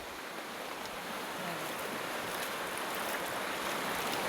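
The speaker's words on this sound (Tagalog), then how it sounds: "Oh, lumaragasa yung tubig doon." River water rushes steadily past at flood level, a broad continuous roar of moving water heard from nearby with no voices over it.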